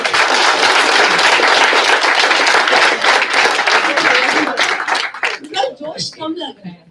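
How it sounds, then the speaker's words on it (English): The PM Relocations sales team gets a loud, dense round of applause at a company all-India meeting, steady for several seconds and then thinning into scattered claps with cheering voices and a few shouts. "Sales team. Right, so please give a round of applause."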